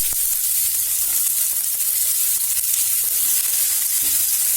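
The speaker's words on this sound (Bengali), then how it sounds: "এই তেলের মধ্যেই পেঁয়াজ কুচি দিয়ে দিলাম।" Chopped onion sizzles in hot oil left from frying chillies, a continuous, even, crackling hiss with no voices.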